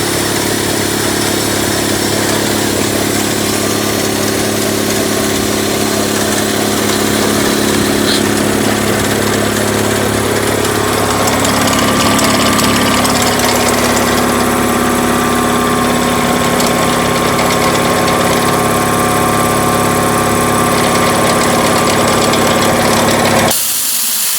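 An SO-7B compressor runs with a steady, continuous mechanical hum and vibration, loud and constant throughout with no speech.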